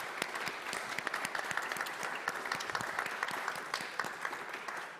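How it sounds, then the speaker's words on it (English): An audience claps for panelists at a public policy school event. The applause is steady and moderately dense, with distinct individual claps audible throughout. "Just a round of applause for all of you."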